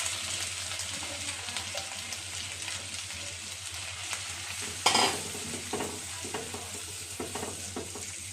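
Tomato paste sizzles in a pan with ginger and green chilli paste for a Bengali banana-flower dish, a steady close fry broken by scraping stirs and one louder clatter midway.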